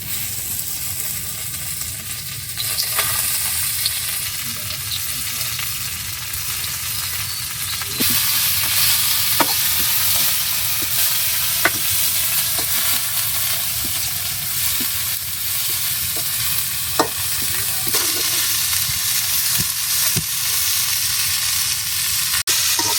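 Onions fry for a curry in a pan, sizzling loudly and steadily with occasional sharp ticks and scrapes of stirring, close up and with no one talking.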